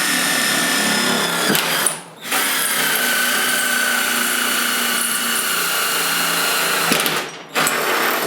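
A power drill whines steadily as it bores through metal for hood pins, with two brief pauses where the motor drops off before spinning up again.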